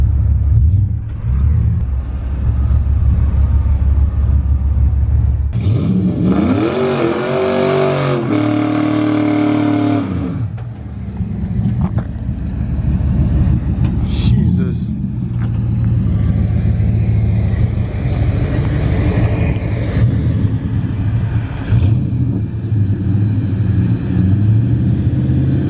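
A car engine running in a garage idles with a low rumble, then revs hard in a loud burst midway, drops back, and picks up again with shorter rising revs near the end.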